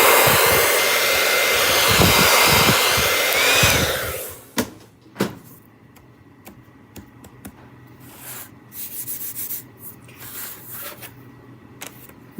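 A hair dryer blows steadily and loudly over a freshly painted damask-pattern surface for about four seconds, then cuts off, leaving scattered small clicks and taps.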